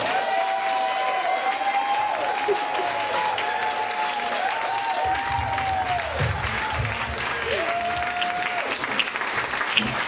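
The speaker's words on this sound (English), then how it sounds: "Please give her a big round of applause" A crowd gives sustained applause at an arts awards party and fundraiser, continuous even clapping throughout, with faint cheers and whoops rising over it.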